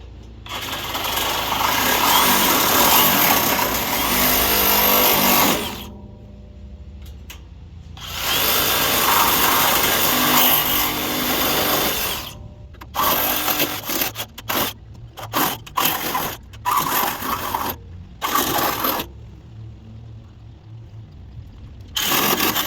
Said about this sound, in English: I'm going to use a reciprocating saw, and let's get to it